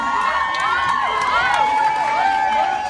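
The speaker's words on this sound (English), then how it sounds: "Can we make a huge round of applause for this beautiful lady?" A club concert crowd cheers, whoops and applauds for a woman on stage at a live show, with a constant loud mass of voices and tonal shouts.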